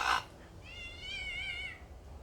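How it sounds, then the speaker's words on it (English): Small cats meow in a clear, drawn-out wavering call after a brief louder burst at the start, heard at moderate distance with no talking. "There's some more small cats there"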